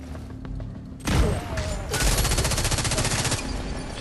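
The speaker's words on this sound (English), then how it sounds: "Looks like we're going to get into a little gunfight here." A gunfight with grenades in The Division 2 bursts into loud, sustained automatic fire with heavy booms, dense and continuous after a quieter start.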